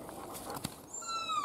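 A small dog whimpers, a thin rising and falling whine near the end, after a few soft rustles and a light knock close by.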